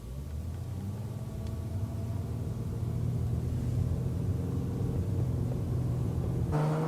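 A Subaru SVX accelerates on the road as its automatic transmission shifts up through the gears, heard from inside as a steady engine drone and road rumble with gradual pitch changes, no talking.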